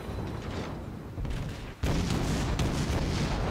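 Naval guns firing high-explosive shells in World of Warships, a heavy, continuous rumble of gunfire with a sharp louder surge partway through, then sustained booming without speech.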